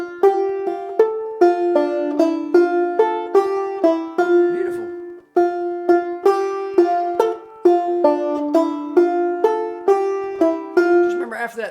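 Banjo picks out a short ending phrase in a steady stream of bright, twangy plucked notes, the open fifth string ringing between fretted notes, clear and close with a brief pause midway.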